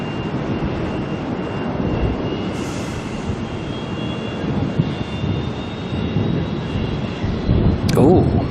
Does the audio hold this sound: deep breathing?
no